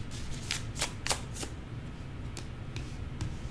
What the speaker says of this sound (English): Let's get two cards for Aries person's energy.